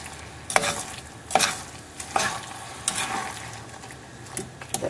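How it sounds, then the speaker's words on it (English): Sugar and butter being stirred in a pan over low heat for a whiskey boiled Christmas cake, with repeated scraping spoon strokes at an uneven pace over a soft, steady background. "I'm just stirring it to make sure that the sugar and butter dissolve and melt"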